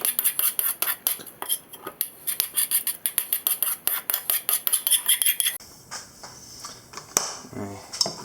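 A spoon scrapes in quick, regular strokes through a tomato paste mix for chili in a pot on the stove, a rhythmic scratching that stops abruptly two-thirds of the way through, followed by a quieter rattle.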